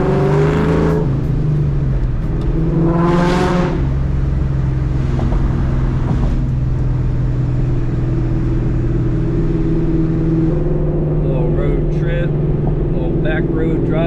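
A Terminator Cobra with a newly fitted aftermarket exhaust pulls hard on a back road, a loud, close engine drone rising and falling through revs. Wind rush runs throughout, and a voice talks over it.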